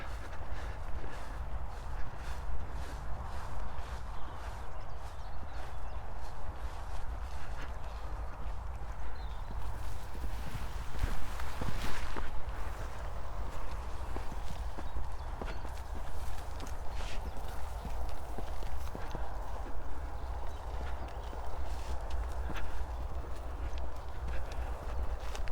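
Horses walk along a path up to a dyke near Newmarket, hooves clip-clopping at a moderate distance under steady outdoor background noise, with a few louder footfalls partway through.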